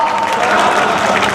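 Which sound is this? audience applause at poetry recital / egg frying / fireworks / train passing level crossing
audience applause at poetry recital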